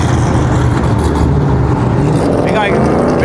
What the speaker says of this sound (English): Fucking cars.